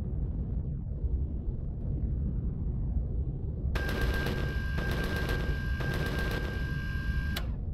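Guns firing in the video game Empyrion: a dense burst of rapid automatic gunfire with short pauses, loud and mechanical with a steady ringing tone, starting midway over a low rumbling background.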